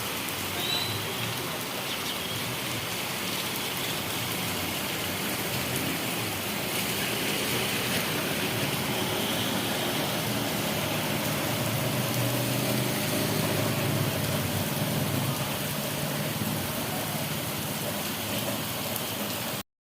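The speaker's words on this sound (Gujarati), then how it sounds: "લાલપુરમાં વરસાદ ચાલુ છે." Steady rain falls in Lalpur, a dense, even patter on surfaces that holds at the same level for the whole stretch with no talking.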